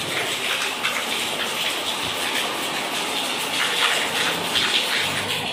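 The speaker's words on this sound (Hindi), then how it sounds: "बारिश इतनी तेज़ है" Heavy rain pours down in a dense, steady hiss of water close by, with occasional louder drips and splashes and no talk over it.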